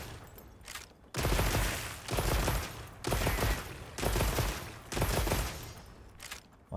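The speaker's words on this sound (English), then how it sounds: "There's a player I'm shooting at him." Video game gunfire aimed at another player: sustained bursts of rapid automatic shots, about five long volleys separated by brief pauses, loud and close.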